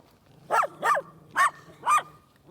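Dogs out on a walk give four loud, close barks in a quick, evenly spaced run over a low steady hum.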